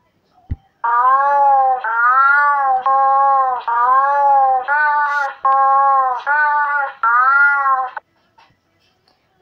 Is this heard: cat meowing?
yes